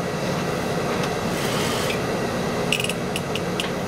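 A sewing machine runs steadily while stitching a pants waistband, giving a continuous mechanical whir with rapid rhythmic clatter and a few sharper clicks near the end, heard close and alone.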